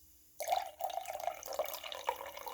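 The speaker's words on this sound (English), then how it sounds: "we will pour this into a glass" A prickly pear lime probiotic drink is poured into a glass in a quiet room, starting suddenly as a close, steady splashing trickle with small gurgles for about two seconds.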